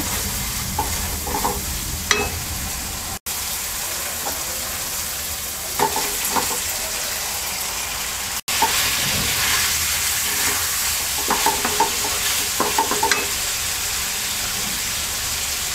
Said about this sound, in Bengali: এবার এই মশলাতেই আমরা ফুলকপিটাকে 5 মিনিট কষিয়ে নেব